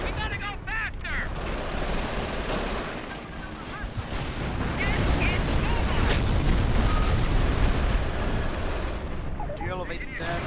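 Mortar and artillery fire in a Company of Heroes battle, a dense, continuous barrage of gunshots and booming impacts rolling on throughout, mixed with soldiers shouting and a player's voice.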